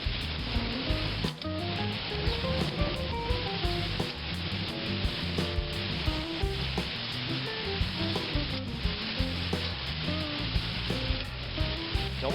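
Thick-cut onions and seasoned vegetables sizzle on a grill for fajitas. A loud, steady crackling sizzle continues throughout with no talking.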